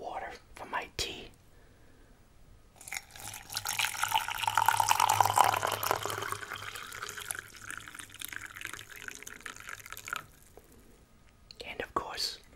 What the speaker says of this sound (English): let's pour the water for my tea